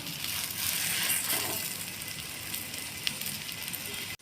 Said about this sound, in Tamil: இப்போ தோசைக்கல் எடுத்தாச்சு. இதில் வந்து ஆயில் கொஞ்சம் அப்ளை பண்ணிக்கலாம். நம்ம ஆலு பராத்தா போட்டுக்கலாம்.